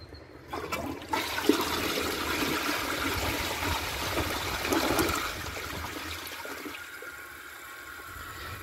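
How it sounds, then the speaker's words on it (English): A 2003 Eljer Patriot comfort-height toilet flushes during a dirt-clearing test: a sudden rushing gush of water swirls and drains loudly for several seconds, then tapers into a quieter refill trickle. "give it a second flush to see if it can take the rest"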